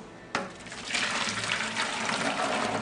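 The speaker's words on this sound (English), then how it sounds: "We're just going to take our pot and we're going to dump it into our 5-gallon bucket" Dissolved homemade laundry soap mixture pours from a pot into a 5-gallon bucket, a sudden splash followed by a steady, close rush of liquid.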